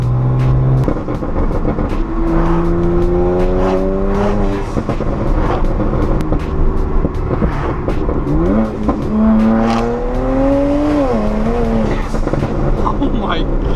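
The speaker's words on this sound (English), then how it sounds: "I've never heard an N54 sound like this ever." Catless BMW N54 135i fitted with inlets, loud and close as the engine revs repeatedly, pitch rising and falling through several climbs over steady road noise, with voices speaking over it.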